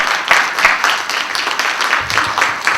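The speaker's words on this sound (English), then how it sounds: "Let's give a round of applause for that." A conference audience at a talk on ancient African heritage gives a loud round of applause, a dense, surging wash of clapping with slight rhythmic pulses throughout.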